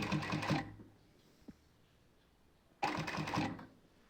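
Sewing machine stitching a round-neck button nighty, two short bursts of rapid mechanical stitching at the start and end separated by a quiet pause with a single small click.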